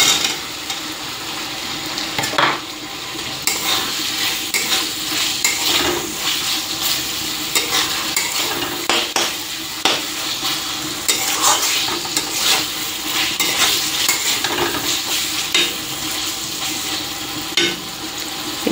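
Fried potatoes stirred into a paneer masala in an oily pan, loud continuous sizzling with frequent scraping and knocking of the spatula in an uneven rhythm.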